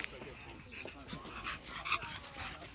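A dog near a park whimpers, pants and gives a few soft yips, faint and somewhat distant, with people talking in the background.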